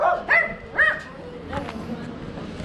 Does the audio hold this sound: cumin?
no